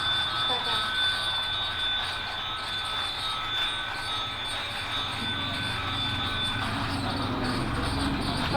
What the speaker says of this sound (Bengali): Wow, দারুণ লাগছে, কি দারুণভাবে ট্রেনটা চলতেছে।